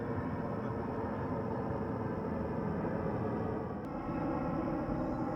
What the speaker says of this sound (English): You're seeing a nice plane come in.